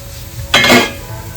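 A lid set onto a cooking pot of onion gravy with jawla shrimp makes a single bright metallic clank with a short ringing tail, close and fairly loud against a quiet kitchen background.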